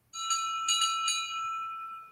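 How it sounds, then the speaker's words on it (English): A small bell on Toby the tram engine rings in a few quick bright strikes, then its clear metallic tone hangs and slowly fades, close and alone. "And how does my bell sound?"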